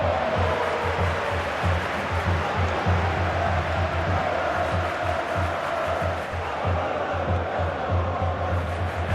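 A football stadium crowd at a Galatasaray versus Juventus Champions League match rumbles restlessly, a broad distant roar with low chanting pulses under steady noise, and a commentator talks over it.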